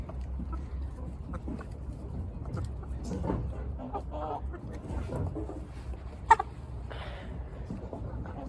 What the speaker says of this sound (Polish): Kogucik wyszedł.